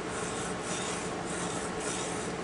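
A metal tool is rubbed back and forth on a sharpening stone, making a steady gritty scraping rasp in repeated strokes, close and moderately loud, with no voices.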